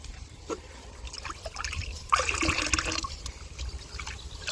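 Pesticide solution with pH balancer is being mixed into water in a drum for an okra crop, a close sloshing and trickling stir that grows louder partway through, with no voice.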